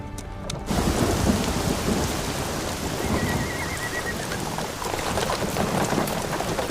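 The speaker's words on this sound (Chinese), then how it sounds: "好像天色阴下来了，似乎要下雨。" Steady heavy rain pours down with rumbling thunder throughout, loud and close as a thunderstorm sets in; a soft tone briefly sounds partway through.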